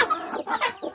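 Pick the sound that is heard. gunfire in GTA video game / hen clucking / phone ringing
hen clucking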